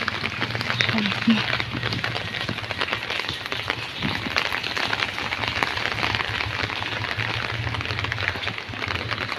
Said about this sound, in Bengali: বৃষ্টি পড়তেছে